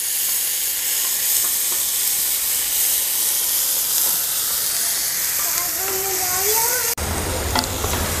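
A generous quantity of onions fries to a deep brown in a pan for pani puri ragda. A steady, loud sizzle and hiss carries on throughout, stirred now and then, with a brief clatter near the end.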